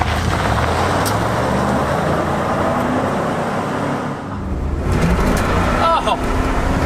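A Chevy K2500 truck with a 454 engine drives along, its engine and road rumble loud and continuous from inside the cab, with a brief dip and then a renewed surge as it accelerates.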